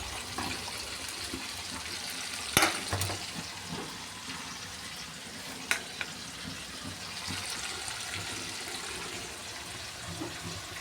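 Hot oil sizzles softly in a pan for a Kerala fish curry cooked in bulk for a local eatery, a faint steady hiss broken by a couple of sharp utensil clinks.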